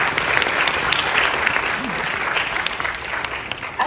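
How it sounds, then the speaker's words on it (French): Audience applause rings out steadily at a Senegalese students' national assembly in France, a dense, continuous clapping that holds at full strength for the whole span without fading. "Sous vos applaudissements, s'il vous plaît."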